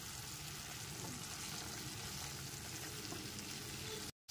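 Spiced masala with tomato and a little sugar sizzles and fries steadily in oil over a low-medium flame, with a continuous close crackle that cuts off abruptly at the end.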